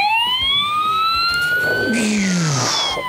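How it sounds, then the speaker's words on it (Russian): A cartoon fire engine's siren wails in a steady rising tone, joined midway by a swooping electronic whoop and a rumbling motor, loud and close with no talking. "Пожарная машина двигалась с огромной скоростью и почти уже доехала до леса."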